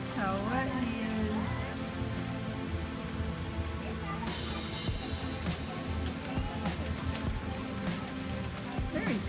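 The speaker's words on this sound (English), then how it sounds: "Looks like the rain has slowed down a lot now." Steady rain falls outdoors in Sarasota, Florida, a broad continuous wash of drops on surfaces with sharper splashes and patter joining midway, while people talk in the background.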